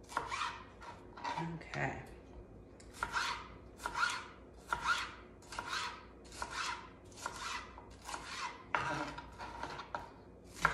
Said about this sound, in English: So just slice that up.